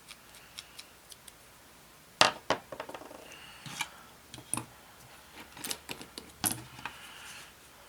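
Cutters snipping plastic model kit parts from the sprue of an Airfix 1/48 Boulton Paul Defiant Mk.I, a scattering of sharp close clicks and snaps at irregular intervals in a quiet room.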